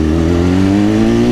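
A 2010 BMW S1000RR sport bike with an aftermarket quick-shifter and auto blipper holds a loud, steady high-revving engine drone, the pitch climbing slightly through a quick upshift without a break in power, close and alone.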